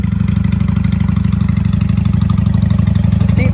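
The V-twin engine of a 1995 Honda Shadow VLX 600 idles loudly and close right after starting, with an even, rapid low thump and no choke.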